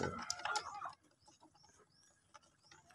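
A short burst of heritage chicken clucking up close at their coop, then quieter scattered clucks and rustling in the background.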